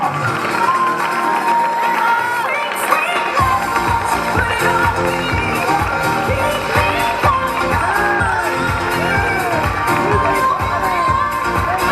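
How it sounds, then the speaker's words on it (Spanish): Spectators at a town footrace finish line in L'Eliana cheer, shout and clap continuously as runners arrive, a dense steady crowd din with rhythmic clapping throughout. "por favor seguir aplaudiendo a esta gente"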